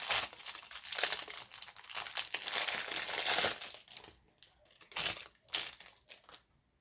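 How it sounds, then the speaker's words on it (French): Scissors snip and crinkle through plastic packaging while craft supplies are unboxed, giving a run of loud, dense crackling cuts followed by a few shorter, separate bursts, with no talking. "Allez, on remet un coup de ciseau."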